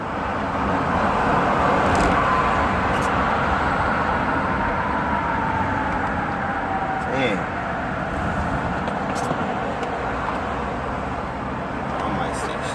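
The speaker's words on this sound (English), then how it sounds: "Traffic." Road traffic passing by, a continuous roar of cars and other vehicles with a louder pass near the middle and faint horn-like tones, all steady beneath talking voices.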